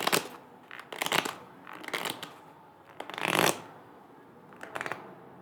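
Tarot cards riffle-shuffled in several close bursts during a reading, crisp papery flutters separated by short pauses, with no talking.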